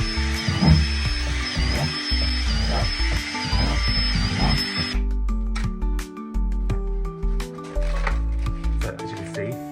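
A power drill bores drainage holes through an old plastic plant pot in a garden, with bursts of drilling over the first half and clattering handling afterwards, while a person talks.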